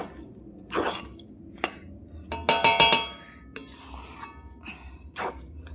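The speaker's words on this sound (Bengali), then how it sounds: "গোলাপ জল কেওড়া জলটা দিয়ে এটাকে আমি ভালো করে মিশিয়ে নেব" A spoon scrapes and clinks against a metal pot while pulao rice is mixed with rose water and kewra water: a run of sharp metallic taps and ringing knocks, close and fairly loud, with soft squishy stirring between them.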